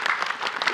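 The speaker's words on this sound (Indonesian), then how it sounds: "Mana tepuk tangannya?" Brief burst of dense clapping from an audience at an Islamic talk, steady and close for under a second.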